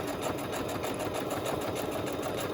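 A sewing machine stitches through paper squares for crafting, its fast, even mechanical rattle running steady and close throughout.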